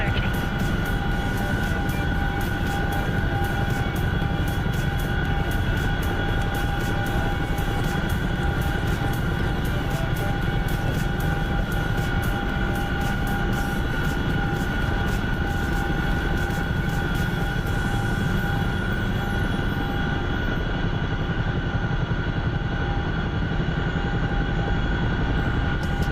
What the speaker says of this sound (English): that's the airfield right there